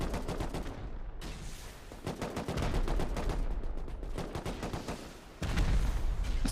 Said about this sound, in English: it looks like both teams are rocketing each other right now